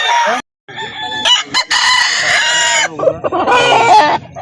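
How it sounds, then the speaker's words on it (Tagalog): Roosters crow loudly and repeatedly, overlapping one another, with hens clucking in between; the birds sound close by. "Ay, manok ni Mia Farm."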